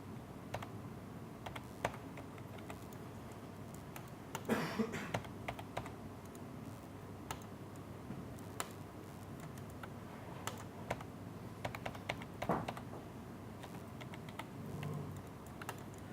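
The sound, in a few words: computer keyboard keys being pressed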